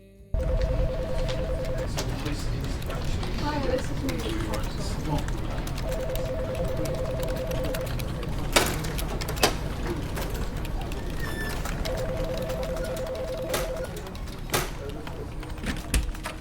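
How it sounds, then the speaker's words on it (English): A busy indoor ambience with a phone ringing in repeated bursts, a steady hum, scattered clicks and knocks, and voices talking underneath. "I loved kind of the creative process of layering so many kind of phone call noises"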